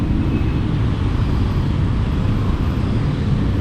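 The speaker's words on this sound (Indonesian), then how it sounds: "pemandangan macet krodit gini" Congested evening traffic on a road in Bali: a steady, dense roar of engines and tires, continuous and fairly loud throughout, with no distinct single vehicle standing out.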